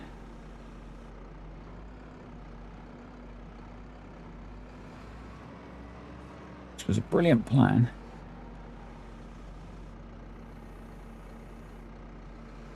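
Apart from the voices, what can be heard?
tractor engine in Farming Simulator 25 video game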